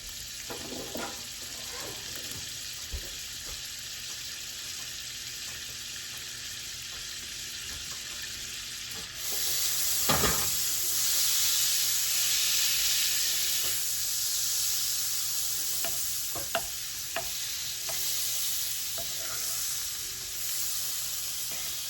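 About 3.5 tablespoons of butter melting in a hot skillet, a steady soft sizzle that grows louder and brighter partway through, with occasional small clicks and no talk.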